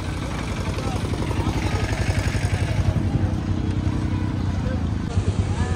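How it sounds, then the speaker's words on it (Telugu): Road traffic on a forest road leading to a hill temple on a busy Sunday, dominated by a close, steady chugging motorcycle engine with rattling clatter throughout. "ఫ్రెండ్ చూసుకోవచ్చు ఎంత ట్రాఫిక్ ఉందో"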